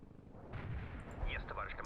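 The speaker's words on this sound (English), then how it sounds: "Ready with our artillery." Artillery fire in the World in Conflict video game, a deep booming blast in the middle of the clip over a low rumbling battlefield, with a few faint higher effects following.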